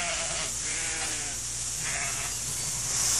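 Sheep bleat in a flock amid a steady wash of background noise, several wavering calls rising and fading over a few seconds without speech.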